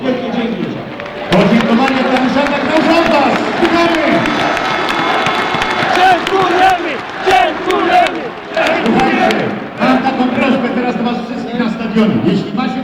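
A large football stadium crowd at an Arka Gdynia versus Beroe Stara Zagora match applauds and cheers loudly and continuously, a dense roar of clapping and voices with shouts rising and falling throughout.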